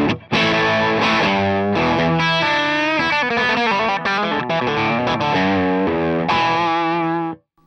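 An electric guitar played through an Andrews Para Dyne 50 amp with the mids raised for distortion gives a run of thick, overdriven notes and chords, loud and close, then cuts off abruptly.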